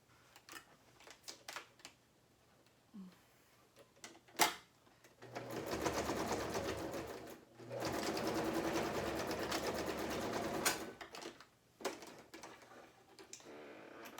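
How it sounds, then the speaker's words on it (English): A sewing machine stitches along the edge of a fabric face mask in two steady, close runs of rapid mechanical whirring. Short pauses fall between the runs, and soft handling clicks come before and after. "Then I just stitch it right at the edge, right here at the edge."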